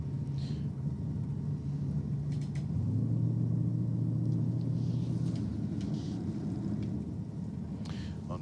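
A Stingray Corvette idles and rumbles at a drag strip, its low engine drone steady and loud, thickening and rising briefly in the middle before settling back under the ambient noise of the track.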